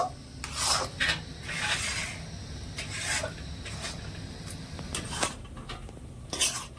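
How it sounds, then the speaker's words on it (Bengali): Semolina being stirred in a pan over a high gas flame until it forms a dough: repeated scraping and rubbing strokes of a utensil against the pan, fairly close, with no talk. "এবার আমি গ্যাসের আঁচটা বাড়িয়ে সুজিটা একটু ডোয়ের মতন বানিয়ে নেব"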